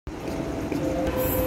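A train pulls into Ocean Park station in Hong Kong with a steady rumble of wheels and a thin high squeal building toward the end, moderately loud and heard alone.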